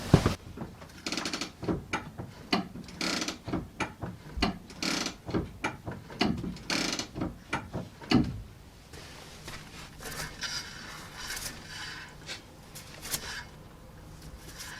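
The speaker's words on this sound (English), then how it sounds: "I'm going to click it on and off a few times to just set everything" A Nissan Leaf parking brake, during a rear disc brake service, is clicked on and off repeatedly, making a run of close, crisp ratcheting clicks and mechanical clunks that gives way to quieter mechanical rattling.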